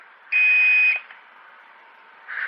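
A Holy Stone HS200 quadcopter drone controller gives a shrill, steady beep lasting about half a second, then a quieter tone, and a second beep begins just as it ends.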